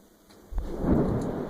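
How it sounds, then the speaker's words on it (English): A deep rumble of thunder from a lightning strike breaks in suddenly and rolls on, loud and low, over steady rainfall with no voices. "I think we had a lightning strike there."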